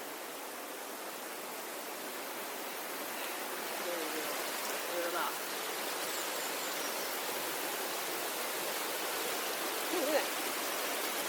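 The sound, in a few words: small stream waterfall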